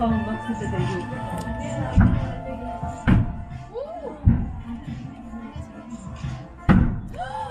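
Booms from a fireworks festival at Lotte World Tower reach a building and make its pillars shake. There are four heavy thuds spaced a second or more apart, with excited voices and murmuring in between.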